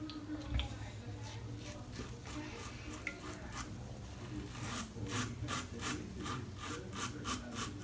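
A Supply safety razor, version 1, scrapes through stubble under Sterling lather in short, raspy strokes that repeat in quick bursts, close and fairly quiet.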